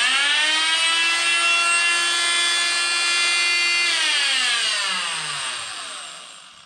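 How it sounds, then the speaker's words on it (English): A Harbor Freight corded oscillating multi-tool, Warrior or Chicago Electric, runs alone at a loud, steady high-pitched buzz for about four seconds, then spins down as the pitch falls and the sound fades away. "I'm gonna turn it on and you can kind of judge for yourself."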